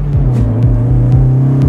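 A car fitted with new polyurethane bushings drives along with a loud, steady engine drone and rhythmic low rumbling from close inside the cabin.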